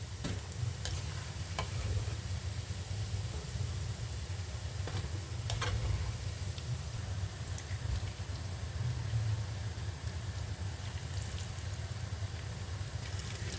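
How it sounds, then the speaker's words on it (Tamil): Steady low sizzling and bubbling of oil as baby corn and carrot deep-fry for Manchurian, with occasional light clicks and taps of a utensil against the pan. "இதே மாதிரி எல்லாத்தையும் பொரித்து எடுத்துக்கலாம்"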